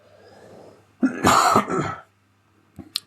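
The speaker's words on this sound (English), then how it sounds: "Sorry about the coughing." A person coughs in one harsh, close burst lasting about a second during chess commentary, then the room falls quiet apart from a faint hum.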